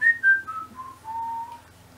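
A single person whistles a short descending melody imitating telephone hold music, a few clear notes sliding down and ending in one long held tone, quiet and close, with nothing else heard.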